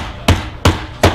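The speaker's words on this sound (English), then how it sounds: "pound them down, try to keep my fingers out of the way" Three sharp, evenly spaced hammer strikes pound metal buckles into leather pieces on a workbench, each a close, loud knock with a quick decay.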